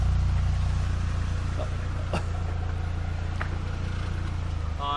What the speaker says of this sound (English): It just does not want to spin those tires.